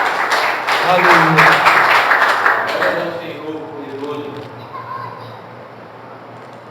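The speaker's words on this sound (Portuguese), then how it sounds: "Você pode dar um aplauso ao Senhor?" Church congregation applauding during a Portuguese-language Christian sermon, a loud dense burst of clapping in the first seconds that fades out, with a preacher's voice calling out over it.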